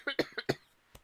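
A person coughs in a quick burst of four short throaty coughs close to the microphone, then pauses before one final cough.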